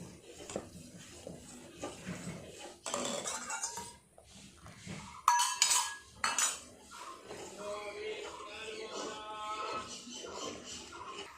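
Metal spoon scraping and clinking against a pot while boiled milk is stirred and vinegar water is added to curdle it into chhena, a steady run of close utensil clatter with brief louder knocks midway.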